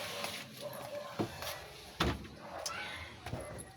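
A stiff house door being forced open or shut, giving a few sharp bangs and thuds spread over several seconds at moderate distance, with faint background voices between the knocks.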